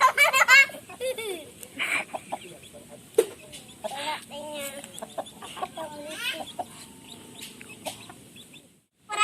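Chickens cluck and a rooster-like call rises among busy farmyard fowl noise, with some voices mixed in, fairly close and continuous until a brief pause near the end.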